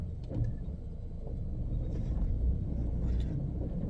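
An old barn-find Mini that has sat for a year rumbles at idle as it moves off in reverse in a private car park, a low, close, uneven engine drone with small knocks and creaks.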